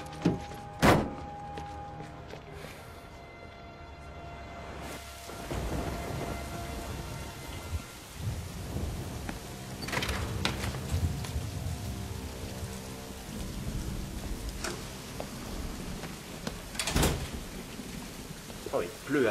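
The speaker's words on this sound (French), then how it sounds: "Oh, il pleut à verse." Heavy downpour drums steadily, with thunder rumbling and cracking in several bursts; the rain hiss runs throughout, and a voice is briefly heard near the start.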